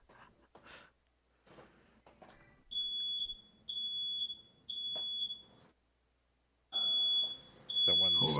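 A household smoke alarm goes off during a tabletop role-playing session, sounding a string of five shrill, sustained electronic beeps in even pulses, with faint voices heard just before the beeping starts.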